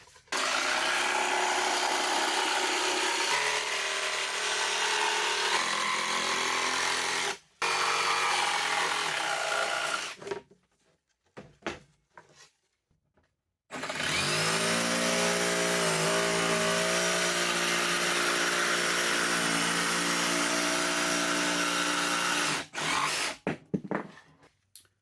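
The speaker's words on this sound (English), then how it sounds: "I cut this little shape out of some 3/8 plywood. I cut a 2x4, and I cut a pallet board" Milwaukee M18 cordless jigsaw cutting 3/8 plywood, a 2x4 and a pallet board: loud, buzzing blade strokes in long continuous runs, broken by short pauses and a few brief start-stop bursts, with no talking.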